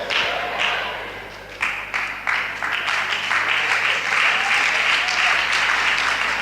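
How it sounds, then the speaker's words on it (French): A crowd of women applauds during a church service, a steady broadband wash of clapping that starts with a few scattered claps, then swells and holds loudly near the listener. "c'est les femmes seulement qui applaudissent pour moi."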